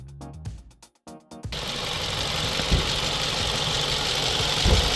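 A black 2017 SsangYong Tivoli Armour VX gasoline SUV with about 40,000 km idles after a few brief clunks. A steady, even engine hum holds close and clear, with no talking.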